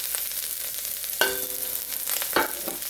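Onion and garlic hit a hot pan for bacon fried rice, sizzling steadily and close up while a utensil scrapes and stirs with a couple of sharper clanks, no voices.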